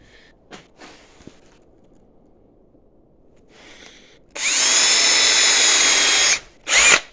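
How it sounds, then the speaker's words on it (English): A power drill boring a hole into the end of a magnesium rod: after faint handling noises, a loud steady high-pitched whine runs for about two seconds, stops, then bites again briefly. "Next, I'm going to drill a hole and tap some threads in the end of the rod for a terminal screw."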